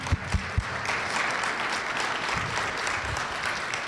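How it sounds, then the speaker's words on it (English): Audience applause at a community event honoring a farm safety speaker, a steady wash of many hands clapping throughout, with a few louder thumps at the start. "let's give Cathy just a tremendous round of applause."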